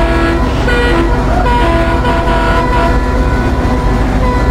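A train horn in the Open Rails simulator, on an Indian Railways WDP4 locomotive hauling the Dibrugarh Rajdhani, sounds short tonal toots over loud, steady engine rumble.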